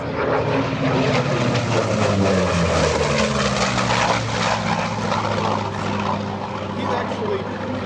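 A Korean War F4U Corsair's propeller engine drones loud and steady at an airshow, a deep throbbing roar that runs throughout while voices talk over it.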